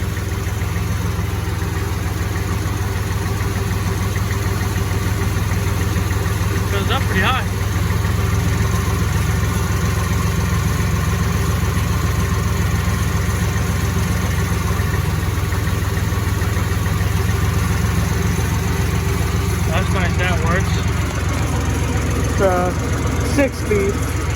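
An old, cheap tractor that had not run in years idles with its engine throttled up, a steady low rumbling drone throughout, with brief voices and knocks over it.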